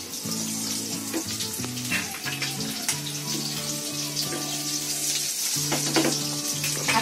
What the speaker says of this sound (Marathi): आता इथे आपली मच्छी फ्राय होते